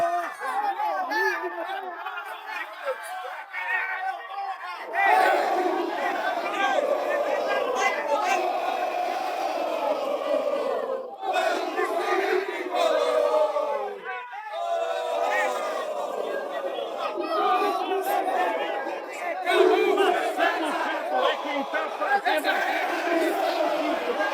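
Football fans celebrate a victory alongside their coach after Treze versus Santa Cruz, a loud, continuous crowd roar of chanting and shouting voices with a brief dip partway through.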